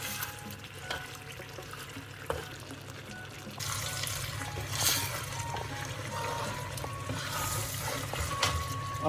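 Garlic and ginger fry in a pan for chicken karahi, giving a steady hissing sizzle that turns louder and brighter partway through, with no talk.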